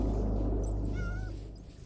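Cats in Minecraft, with a couple of short, faint meows over a low, steady game background.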